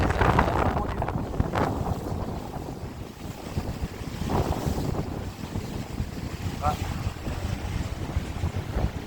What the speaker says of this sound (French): Du vent, hein.